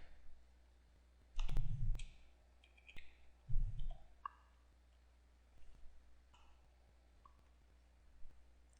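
Computer mouse clicks, a few sharp isolated clicks and double clicks with soft thumps between, close and quiet with no talking.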